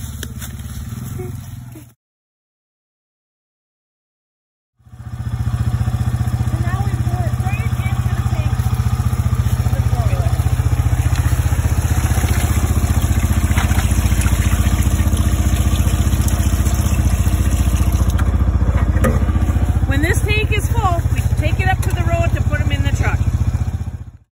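A four-wheeler ATV engine runs steadily nearby in a steady low idle, with some clatter and scraping on top, after a short silent break near the start.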